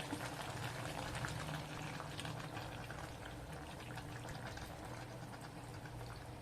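Seafood simmering in coconut milk gives a steady, soft bubbling and hiss that stays even throughout, close by and fairly quiet, with no voices.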